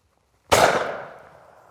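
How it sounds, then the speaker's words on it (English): A single sharp shotgun blast from a Miroku MK11 over-and-under game gun fired outdoors, loud and close, with a short decaying tail. "firing the gun by using the over barrel first has definitely changed the feel of percept recoil"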